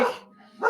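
A dog in a video game barks twice in quick succession, one short, loud bark at the start and another at the end, with a brief quiet gap between them.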